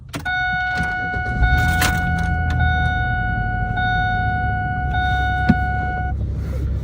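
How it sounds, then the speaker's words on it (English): A Pontiac Grand Prix engine runs at a steady, quiet idle close by, with a low rumble throughout and a sustained electronic chime tone over it, plus a few light clicks. "it starts off very nice and quiet. Watch this. Starts right up on crank."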